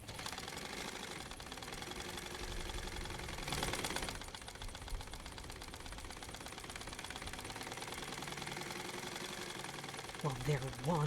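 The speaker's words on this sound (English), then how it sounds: "Is that a sewing machine?" A sewing machine runs continuously in the horror video game Remothered: Broken Porcelain, a dense mechanical whirr with a brief louder burst early on and a voice breaking in at the end.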